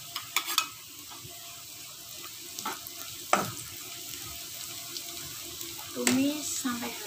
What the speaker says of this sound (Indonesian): Tumis sampai harum ya guys.